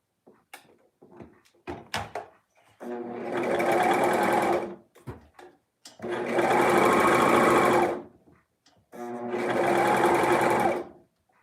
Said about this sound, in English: I'm going to sew that part together.